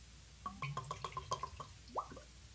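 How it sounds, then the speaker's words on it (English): Vodka poured into a shot glass, a short run of quick, soft liquid drips and gurgles close by, ending in a brief final splash, with no voices. "That feels like I'm not pouring a lot."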